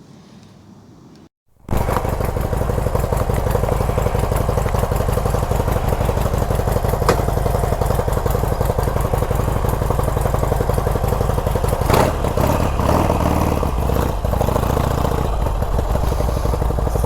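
A Harley-Davidson Sportster motorcycle engine fires up after a brief quiet moment and runs with a loud, steady, close rumble and rhythmic throb, continuing without a break.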